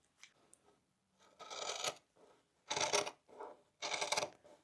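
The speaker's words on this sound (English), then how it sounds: "So cut along that bottom curve, just like that, and then cut this top piece out." Scissors cutting out fabric pieces for a tote bag, heard as three bursts of close crisp snipping and rasping, each lasting about a second, separated by brief quiet pauses, with faint handling noises in between.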